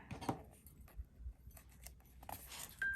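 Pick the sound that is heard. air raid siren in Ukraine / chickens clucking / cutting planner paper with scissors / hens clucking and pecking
cutting planner paper with scissors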